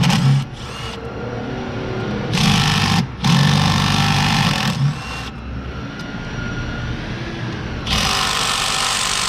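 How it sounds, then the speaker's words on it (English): Power tool unbolting the oil cooler on a Dodge, Chrysler or Jeep engine: several loud, close whirring bursts of a few seconds each, separated by quieter workshop pauses, with no talking. "I'm just going to go ahead and unbolt the oil cooler."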